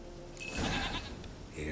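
A goat in The Witcher 3 lets out one long, wavering bleat at close range, rising and falling over a second or so against quiet game ambience.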